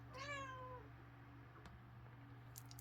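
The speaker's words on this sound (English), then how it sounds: "You'll have to excuse my little cat." A small pet cat gives one clear, drawn-out meow close by, followed by quiet indoor room hum and a few soft background noises.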